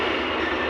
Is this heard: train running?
yes